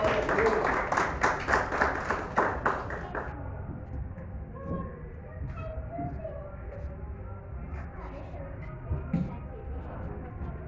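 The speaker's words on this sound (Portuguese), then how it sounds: "Aplauda o Senhor." A church congregation at a Holy Communion service claps in quick rhythmic unison for a few seconds, then the clapping fades out, leaving quiet room noise with scattered voices.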